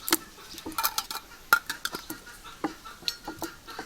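Small glass jars on a table get a teaspoon of 9% vinegar each, heard as a run of light metal spoon clinks and glass taps, close and irregular, with no talking.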